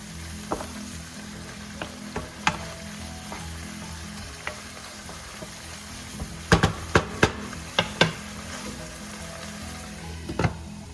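Ground pork and string beans sizzling steadily in a hot pan after a splash of soy sauce, a continuous frying hiss punctuated by sharp stirring clanks and scrapes, with no talking.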